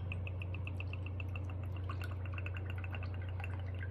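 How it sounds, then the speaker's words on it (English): Maple syrup poured at a sugar shack, heard as a rapid, steady patter of small drips over a constant low hum. "I'm gonna pour it all in here."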